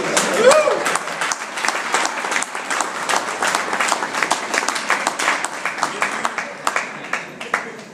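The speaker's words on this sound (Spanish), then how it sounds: "Dale ese aplauso a ti." A church congregation applauds in a sustained burst of many hands clapping, loud and close, fading slightly toward the end as a voice briefly talks over it.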